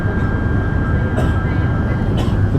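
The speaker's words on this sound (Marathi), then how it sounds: "तर 2:26ला बरोबर ट्रेन सुटलेली आहे" Steady low rumble of a train departing Batu Caves station in Kuala Lumpur, Malaysia, continuous and fairly loud, with a faint whine running throughout.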